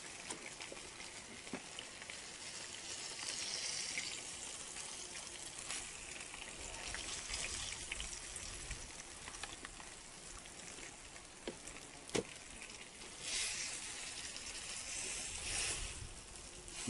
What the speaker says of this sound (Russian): Тогда рыба зажарится.